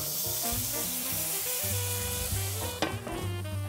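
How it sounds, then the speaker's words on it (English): Water poured into a very hot skillet with hot dogs sizzles and steams fiercely, a loud continuous hiss and crackle up close that swells briefly near the end. "Now that steam's pretty aggressive, shall we say."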